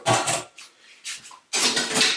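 A spatula scrapes the inside of a pot of beef bourguignon in three short, loud, rasping bursts separated by brief pauses.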